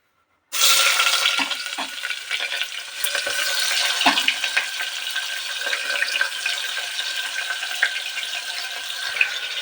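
Onions and oil sizzle steadily in a hot pan for beef tehari, a continuous close frying hiss with occasional stirring clatter and soft knocks, no talk.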